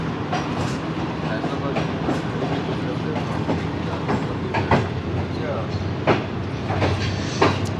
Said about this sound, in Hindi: ट्रेन हमारी ऑन टाइम है, लाहौर से तो लेट चली थी, लेकिन यहाँ पे 5 मिनट अर्ली मौजूद आई है मुल्तान शहर।